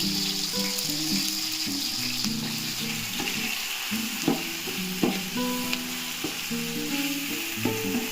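Steady sizzling of ginger garlic paste frying with onions in a pan for veg biryani, with occasional soft clinks and scrapes of a spoon stirring throughout.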